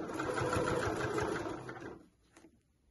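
A sewing machine runs a fast, even stitch on a fold-over clutch bag with gold binding, a close steady whirr that stops after about two seconds, leaving faint clicks.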